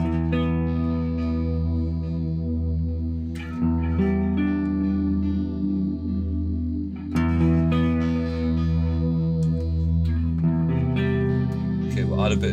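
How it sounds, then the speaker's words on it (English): Electric guitar through bit crusher and delay effects from a Mooer Ocean Machine pedal, crunchy and gritty, chords ringing out and smearing into repeating echoes, with a few sharper new strums cutting through the wash. "So let's try those two delays by themselves."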